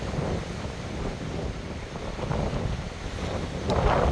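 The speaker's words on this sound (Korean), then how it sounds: "태풍급보다 더 센 허리케인급 이런 바람을 처음 맞아봤습니다" Very strong, hurricane-force coastal wind at Oryukdo in Busan, roaring steadily and loudly across the microphone with surf mixed in, swelling stronger near the end; nobody talks.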